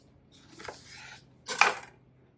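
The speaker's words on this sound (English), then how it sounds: "We're going to cut it in half." A knife slices through a peeled melon to halve it: two brief, soft cutting and scraping sounds against a board, close but quiet.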